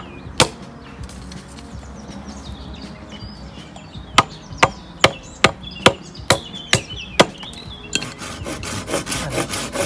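A saw cuts through a piece of dead tree wood. It begins with a single sharp stroke, then a run of evenly spaced, close, loud rasping strokes, and ends in faster, denser scraping.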